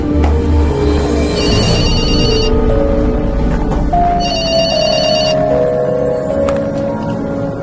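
A telephone rings at the Grand Aquarium: two loud, bright bursts of electronic bell ringing, separated by a short pause, over steady background noise.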